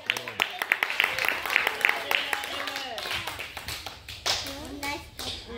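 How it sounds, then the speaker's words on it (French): Congregation clapping during a church service, sharp irregular hand claps at first, then a looser scatter of claps mixed with voices, including a child's, and some sung or called-out tones. "On peut faire une acclamation pour ça?"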